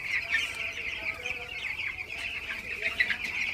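Broiler chickens raised on a poultry farm floor cluck and chatter continuously as a dense flock, close by and fairly soft, with no clear talk over them.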